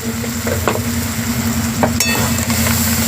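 Spice masala with turmeric sizzles loudly in a pan as it is stirred and fried, with intermittent scrapes and clinks over a steady low hum and no talking.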